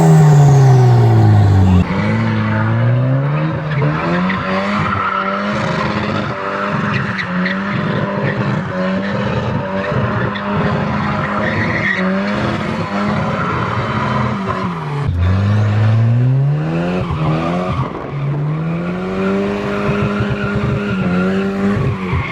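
A Megasquirt-tuned Volvo driven hard, engine roaring and rising and falling through revs while tires squeal and skid in long sustained screeches, loud and close with no talking.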